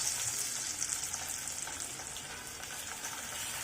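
Sliced onion and ginger garlic paste fry in oil in a pan for a masoor dal and long bean dish, making a continuous close sizzle with light crackling and occasional stirring.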